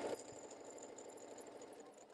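A sewing machine stitches a quilted table mat, running at an even, rapid mechanical rhythm with a light whirring hum, close by and fairly quiet, after a brief louder bump at the start.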